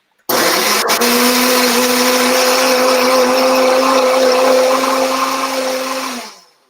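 A blender purees persimmons with a loud steady whirring hum that starts suddenly, holds for about six seconds and winds down at the end.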